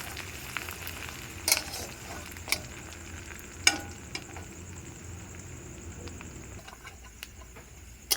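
Chopped garlic and ginger fry in a pan, giving a soft, steady sizzle punctuated by several sharp clicks of a utensil stirring against the metal.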